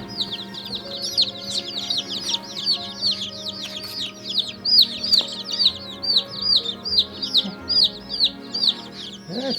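Day-old chicken chicks in a brooder peep constantly in rapid, high, overlapping chirps. The sound is close and busy, with faint background noise and no speech.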